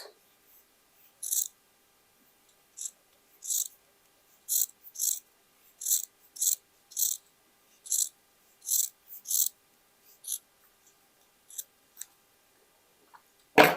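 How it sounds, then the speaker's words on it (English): Scissors snip through the stitching on dark gray denim jeans cuffs in a series of short, crisp crunching cuts spaced by quiet pauses, close up in a silent room. "I will try something just to cut this stitching"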